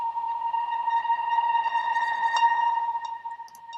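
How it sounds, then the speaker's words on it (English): A swelling, reversed reverb wash with a steady tonal hum that builds and sustains, then thins out at the end, alone without any voices. "I took that reverb tail, flipped it, and reversed it."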